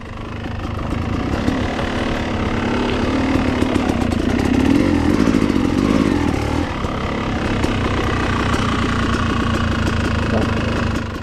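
A motorcycle engine idles close by with a steady, rough mid-pitched chugging that rises slightly in the middle, amid an outdoor event with faint background activity.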